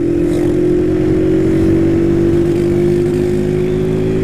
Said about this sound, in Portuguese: A moto tá falhando, mano. Tô umas engasgadas.